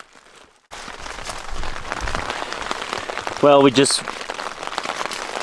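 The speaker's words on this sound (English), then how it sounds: "as you can hear, we've got rain beating on the Cimarron" Steady rain pours on a camp along the Cimarron during a Colorado elk hunt, a dense hiss that starts abruptly and continues under a voice, with a brief louder rustle midway.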